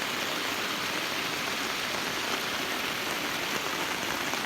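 A steady downpour drums through a southern Lao forest in a storm, broadband and unbroken, with rainwater running off nearby; the wash of sound stays loud and even for the whole stretch, no one speaking.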